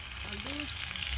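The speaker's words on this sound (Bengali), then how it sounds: "আলু ভাজা হচ্ছে" Potatoes fry in oil at an outdoor picnic before meat is cooked, giving a steady, moderately faint sizzle with a brief voice-like murmur in the background.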